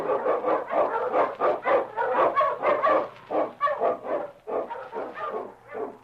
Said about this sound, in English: The Wonder Dog King, swiftest and strongest of Eskimo lead dogs, blazes a trail through storm and snow